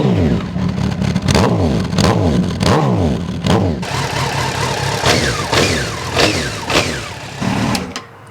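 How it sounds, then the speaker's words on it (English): A Honda 919 Hornet (CB900) motorcycle engine with stock exhaust revs repeatedly in sharp bursts, then settles into a lumpy, rumbling idle, loud and close. "Sounds pretty good for being a stock exhaust though."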